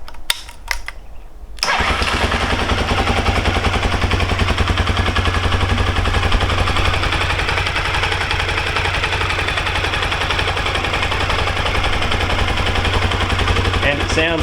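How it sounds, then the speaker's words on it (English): A Honda XL250 Degree four-stroke single-cylinder motorcycle, freshly rebuilt, cranks and fires after a brief pause. It then settles into a loud, steady, close idle with a fast even thumping that continues to the end. "But as you can see, it starts really nicely."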